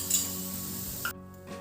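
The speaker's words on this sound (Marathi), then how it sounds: "तापलेल्या तव्यावर मी आता पोळी टाकते. कडेने थोडं तूप सोडते आहे." Gul poli, a sesame-jaggery flatbread, sizzles loudly on a hot griddle as ghee is added around its edges. The frying is steady and close, then drops away abruptly near the end.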